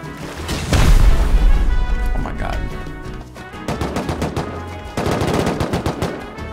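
Rapid machine-gun fire and heavy rocket blasts in a Rust raid, loud dense bursts of gunshots with booming explosions, a sustained barrage that pauses briefly then resumes in rattling volleys.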